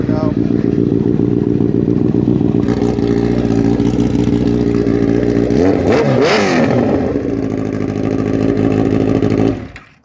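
A 2014 Honda CBR 1000RR SP sportbike idles loud and close with a steady, dense engine drone, briefly climbing through a quick rev near the middle before dropping back and cutting off at the end.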